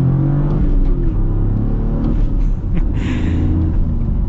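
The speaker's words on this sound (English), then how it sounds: "The car will basically do the blipping of the throttle for you" Toyota GR Corolla Core (2024) engine blips its throttle on its own during downshifts, a steady loud idle-range rumble with brief rising revs, close and alone without talk.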